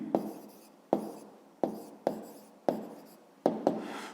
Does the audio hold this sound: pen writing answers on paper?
yes